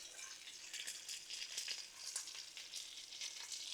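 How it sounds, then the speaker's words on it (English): Steak bites sizzling on a Blackstone griddle, a steady soft crackle and hiss with small popping bursts, heard up close but fairly quiet and without any talk. "you want that sizzle"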